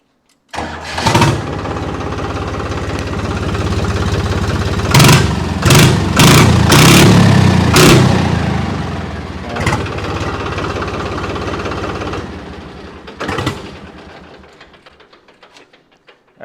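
A 2007-model tractor engine cranks and catches, then settles into a steady, loud idle with several brief revs and a final burst before cutting off, close by and with no talking.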